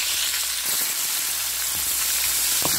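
Red onions tossed into a pan with ginger sizzle loudly and steadily at close range, with a few sharp bursts of spattering and no voices.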